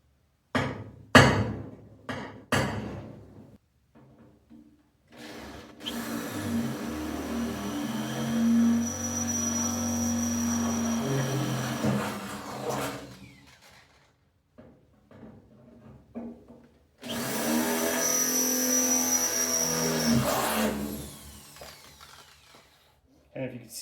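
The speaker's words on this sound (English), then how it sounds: "drill bit can go through nice and clean." A power drill bores through rusty car body metal at the rear tub, two sustained whining runs of several seconds each, close and fairly loud, separated by handling knocks and quiet gaps, with a few short taps at the start.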